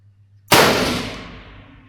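A single rifle shot from a carbine cracks out sharply and loudly at a steel target range, its blast ringing off into a long, fading echo over about a second and a half.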